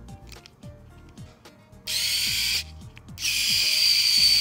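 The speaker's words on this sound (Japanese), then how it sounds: "まあできればデンドラに使ってほしいなという感じです。" Electric drill spinning a Tamiya 5 mm adjuster wrench for turnbuckles, heard as two loud, close high-pitched whirring bursts, the second sustained to the end, after quieter clicking handling sounds.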